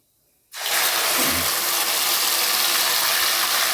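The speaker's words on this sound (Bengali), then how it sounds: "তারপর যে আদা, টমেটো আর কাঁচা লঙ্কার পেস্টটা ছিল সেটা দিয়ে দেব" Ginger, tomato and green chilli paste hits hot oil with whole spices in a pan for Bengali vegetarian ghugni, bursting into a loud, steady, broad hiss after half a second of near silence and holding constant.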